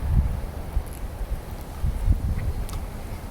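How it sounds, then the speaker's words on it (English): Gusty wind buffets the microphone outdoors, a low rumbling roar that swells and fades with faint rustling, no voices. "must be really windy out today."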